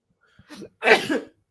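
A single sharp sneeze bursts out after a brief intake of breath in a quiet room, close and loud, with no talking over it.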